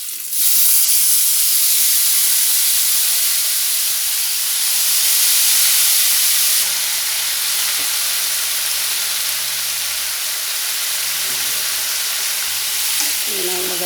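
Two medium potatoes, grated, sizzle and crackle loudly in a hot pan, a steady close frying hiss that swells for several seconds as they land and then settles into a constant crisp sizzle with faint stirring.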